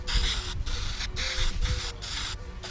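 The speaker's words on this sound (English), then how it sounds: "So after spraying the filler primer" Filler primer sprayed from an aerosol can onto a car fuel cap being fiberglassed for DIY widebody flares, heard as five or six steady hissing bursts of about half a second each, separated by short gaps, close up with no talking.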